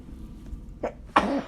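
A single sneeze, preceded by a brief soft intake, sharp and close in a quiet room with no talk.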